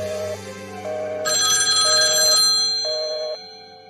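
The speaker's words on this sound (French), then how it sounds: "Ce soir, le téléphone du docteur sonne dans un silence insoutenable." A telephone rings in a quiet room with a steady electronic bell tone that comes in short repeating bursts, one brighter and louder section in the middle, and no voices.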